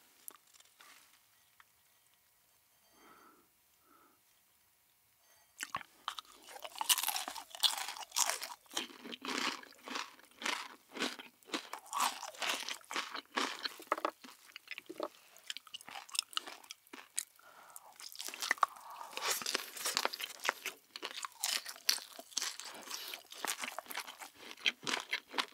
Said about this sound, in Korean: 다음은 치즈과자 떡볶이 먹어볼게요.